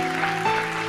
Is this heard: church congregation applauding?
yes